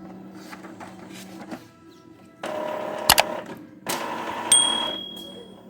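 An Epson L3150 inkjet printer runs a nozzle head print after cleaning, giving several seconds of close mechanical whirring and carriage movement with brief clicks and a short high tone near the end.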